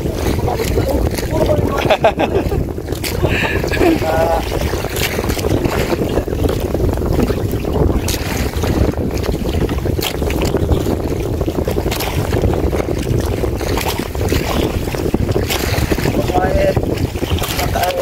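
Wind gusting steadily across a fishing boat at sea under cloudy skies, a loud continuous buffeting roar against the microphone with water and hull noise beneath and people talking through it.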